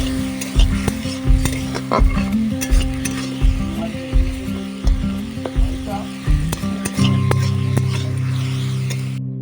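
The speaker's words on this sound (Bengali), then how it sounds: "মশলাটা কষাতে থাকবো" A spice masala for a spicy okra and potato dish fries in a pan while a spatula stirs it in regular scraping strokes over a continuous sizzle, with a low background hum.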